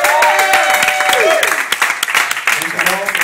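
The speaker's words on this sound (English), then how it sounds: "can I please get a round of applause?" Audience applause after a hip hop performance at a showroom venue, loud and close, a dense wash of clapping with scattered cheers and whoops running through the whole stretch.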